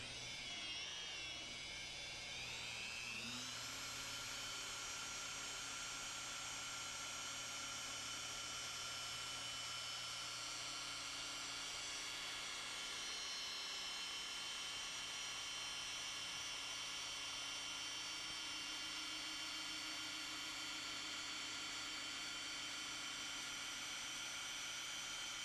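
Car polisher with a polishing pad running on modern clear coat, a loud, steady high-pitched whine that holds for the whole stretch with a slight shift in pitch near the start, and no talk.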